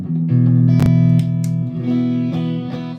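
Electric guitar with single-coil pickups played through a compressor pedal used as a volume boost, sustained chords ringing loud and fat, with a brief bright strum burst near the middle.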